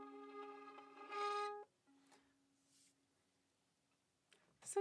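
A violin bowed with a brand-new, never-rosined bow of fresh hair gives a thin, weak tone with a few short, faint scratchy strokes and breaks between them, close by and alone.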